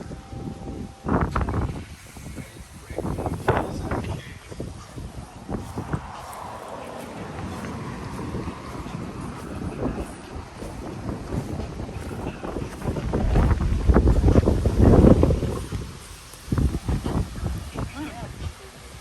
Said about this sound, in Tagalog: Very windy today, friends,